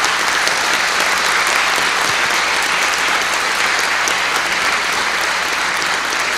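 Loud, sustained applause fills a formal solemn session in a legislative hall honoring a youth organization, a thick unbroken roar of many hands clapping at an even level throughout.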